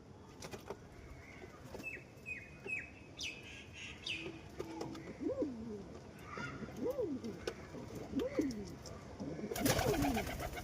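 Pigeons coo in repeated throaty rising-falling calls while fighting, with sharp chirps and a flurry of wingbeats toward the end, all close and fairly faint.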